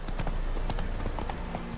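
Roach the horse gallops in The Witcher 3, with a fast, even run of hoofbeats driving close and loud under a low rumble of game ambience.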